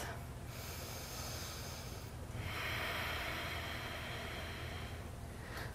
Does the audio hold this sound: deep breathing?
yes